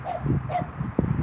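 Several dogs greet someone arriving with short whimpering yips and a brief bark, close by and fairly loud over outdoor background, within a little over a second.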